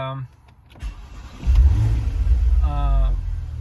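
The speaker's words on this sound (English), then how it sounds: "as you can heard, I started the car" A Porsche engine cranks and catches, settling into a low, steady idle close by, with a brief chime-like tone near the end.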